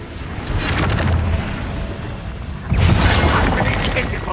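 Confringo spell blasts in the video game Hogwarts Legacy, heard as loud rumbling booms with crackling debris, the second blast swelling partway through amid continuous dense game noise.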